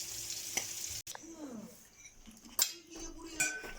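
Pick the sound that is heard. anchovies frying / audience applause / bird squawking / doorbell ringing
anchovies frying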